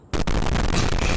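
Firecrackers suddenly erupt into a loud, dense burst of crackling noise that starts abruptly and keeps roaring steadily to the end, with no talking.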